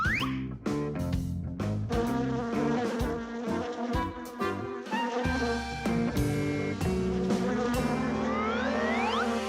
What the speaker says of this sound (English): Here, little bee. Fly this way.